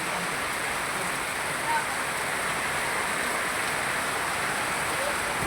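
Steady monsoon rain pours down in a continuous, even hiss, close and unbroken throughout with no distinct drops standing out.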